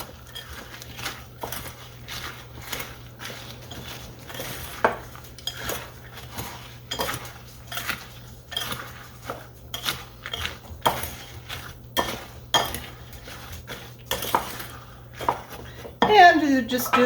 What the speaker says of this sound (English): I'm going to go ahead and fold that in.